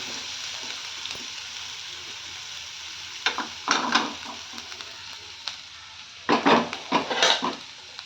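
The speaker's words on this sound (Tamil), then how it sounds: "இது சும்மா லைட்டாக வதக்கி இதை வந்து நம்ம ஆவில் நம்ம சேர்த்துக்கலாம்" Something is sautéed lightly in a pan to be added to green gram (pesarattu) dosa batter, with a quiet background sizzle and two short clusters of stirring and spatula scrapes, close and moderately loud, with no talking.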